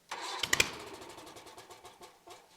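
A 23 horsepower Kohler engine cranks and catches, with a burst of sputtering starter noise that settles into a steady mid-pitched run and then fades down near the end, close by with no talking.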